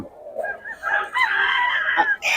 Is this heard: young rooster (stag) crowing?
yes